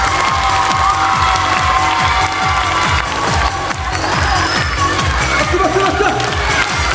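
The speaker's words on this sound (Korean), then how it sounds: "박수 부탁합니다." An audience at a patriotic lecture-concert about Dokdo cheers and applauds, a dense continuous crowd roar with many claps and shouts that stays loud throughout.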